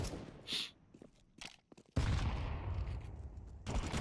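A grenade goes off and gunfire rattles in a competitive video game match, with a few sharp shots and footsteps first, then a sudden loud blast and sustained rumble.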